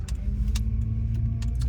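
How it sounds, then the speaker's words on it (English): A car's noisy interior, with a steady low engine drone and a few sharp rattles and clicks scattered throughout, close and moderately loud. "sorry, my car's a little noisy"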